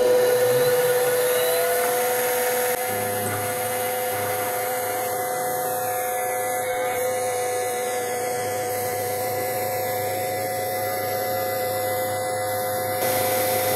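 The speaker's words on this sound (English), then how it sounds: "I've got an 1/8 inch milling cutter in there, and I'm hoping to cut this off with a slot all the way down the length here" A milling machine cuts a slot down the length of a workpiece with a 1/8 inch milling cutter, fed slowly for an art clock; a steady motor whine and hum hold throughout with no talking.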